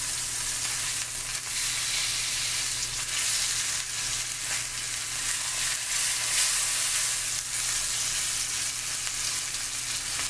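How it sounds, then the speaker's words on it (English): Filet mignon sears in a very hot pan at max heat, giving a dense, steady sizzle that fills the whole stretch, close and loud with no pauses. "When you're gonna do a steak, when you're gonna sear it, that thing has to be really hot."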